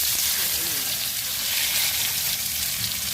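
Onion and garlic fry in hot oil in a pan, giving a steady, close, broadband sizzle with crackling texture throughout, while a person talks faintly underneath.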